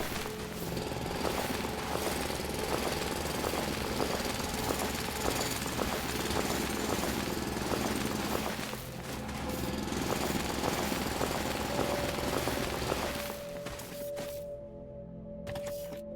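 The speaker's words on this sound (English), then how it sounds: "Okay, let's put the mining drill here." A mining drill running in the factory-building video game Foundry gives a steady, continuous mechanical drone with a rattling, jackhammer-like texture, loud and alone throughout, then settling into a steadier tonal hum near the end.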